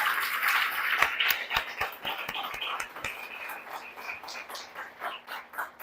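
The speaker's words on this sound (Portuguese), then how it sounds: "Aplaudamos o Deus vivo." A church congregation claps together in worship, a quick run of steady rhythmic claps that thins out and fades while a voice carries on over it.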